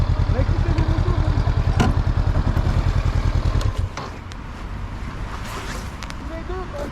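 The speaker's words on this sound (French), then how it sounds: "Écoutez vos motos" Motorcycles on an A2 licence training course, a steady pulsing engine drone close by that drops to a lower, rougher idle-like rumble partway through, with wind noise over it.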